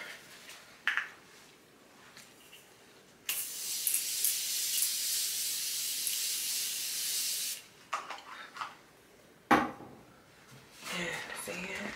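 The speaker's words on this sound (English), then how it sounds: "now I'm gonna spray my face" A sustained hissing spray of facial mist onto a face lasting several seconds, close by, with faint rustling before and after.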